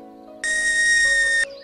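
Blowing across a pen cap produces a single clear, steady whistle tone lasting about a second, loud and close, standing alone over a faint background hum.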